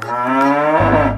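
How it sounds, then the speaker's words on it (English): A cow moos in one loud, close, low sustained call that shifts deeper partway through, heard alone. "Cow."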